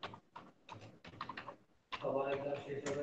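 Fast bursts of clicking keys on a computer keyboard as a search is typed into Google, with a spoken voice running over the taps and continuing after them.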